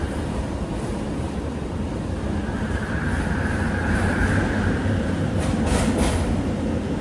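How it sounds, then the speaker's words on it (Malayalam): A metro train in Kuala Lumpur, Malaysia, rumbles steadily along the platform as it pulls away, a continuous low roar with a faint rising whine and no voices. "മെട്രോ പോയി."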